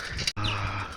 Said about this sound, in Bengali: পাখি পাখির ডাক